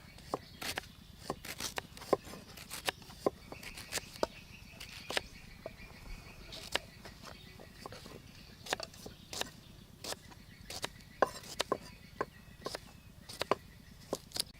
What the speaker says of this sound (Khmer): បន្ទាប់មកយើងហាន់ត្រប់